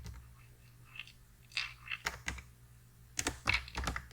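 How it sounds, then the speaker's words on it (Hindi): Keys clack on a computer keyboard during a Python coding session, with scattered quiet taps building into a short burst of close, crisp keystrokes and no speech. "तो की प्रेस कर दीजिए आपका"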